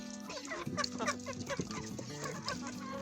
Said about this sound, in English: Okay, chickens, are you ready? Come on out.